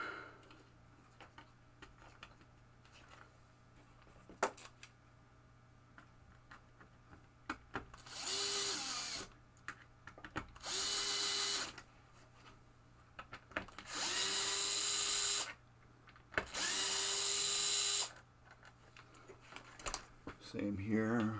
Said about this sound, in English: Let's put those screws back in.